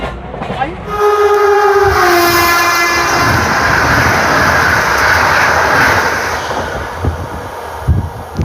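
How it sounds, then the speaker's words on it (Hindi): The Jodhpur Howrah Express passes close by, opening with a sustained horn blast followed by a loud, steady roar of rolling wagons and rail clatter that eases slightly toward the end. "जोधपुर हावड़ा एक्सप्रेस हमसे आगे निकल गई"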